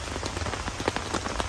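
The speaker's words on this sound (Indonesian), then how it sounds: "Ada suara hujan loh" Steady rain patters on a tent at a mountain campsite on Mount Slamet, a dense, continuous wash of drops close by with no voices.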